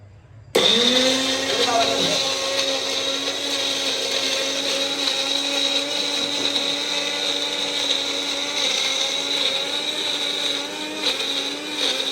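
A kitchen mixer grinder switches on abruptly and runs as a loud, steady high-pitched motor whine with a grinding buzz for several seconds, close to the listener, with no talking.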